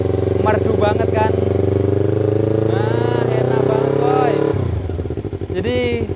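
Old Yamaha Vixion motorcycle with twin exhaust pipes idling nearby, a loud, steady throbbing engine note with slight rises and a brief dip, while someone talks over it at times.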